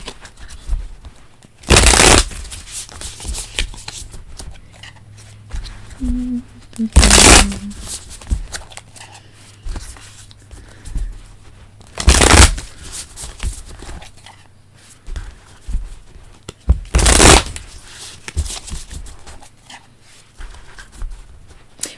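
Tarot cards riffle-shuffled close up in four crisp, loud bursts spaced about five seconds apart, with quiet handling noise between them.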